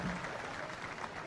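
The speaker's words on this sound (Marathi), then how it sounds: "जोरदार टाळ्या वाजवून त्यांचं या ठिकाणी स्वागत करूया" Crowd applause at a political gathering welcoming a Maharashtra cabinet minister. A short, fairly faint burst of steady clapping plays without any speech over it.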